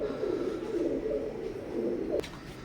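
Teddy pigeons of an imported Qantawala line coo in a steady, low, murmuring stream close by, with no talk over them.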